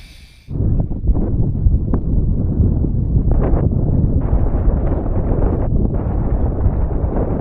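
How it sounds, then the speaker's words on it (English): Strong wind buffets an anchored boat, a loud, continuous rumbling roar that starts abruptly after a quiet moment and keeps gusting unbroken, with no voices. "The wind picked up overnight."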